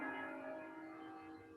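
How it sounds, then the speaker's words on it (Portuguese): Church bells ring from a church down in a valley, their sustained, overlapping tones heard from a distance and slowly fading, with no talk over them. "ele gostava muito de ouvir esses sinos que a gente está ouvindo da igreja"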